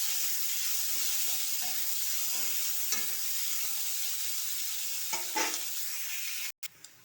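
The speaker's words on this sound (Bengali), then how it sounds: "এবার দিয়ে দেব একটা পেঁয়াজ কুচি, দিয়ে পেঁয়াজগুলো ভেজে নেব।" Chopped onion frying in a pan for Bengali potol chingri, a dense continuous sizzle with occasional stirring scrapes near the end, loud and close with no talking.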